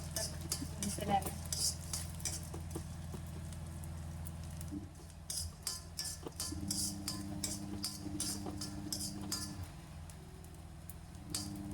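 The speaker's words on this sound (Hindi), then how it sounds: "मैंने यहाँ पे एक मुट्ठी मूंग ले ली है, उसको भी भून लेते हैं" Handful of moong beans being dry-roasted and stirred in a pan, soft rattling patter and scraping strokes repeating through the clip over a low steady hum, fairly faint.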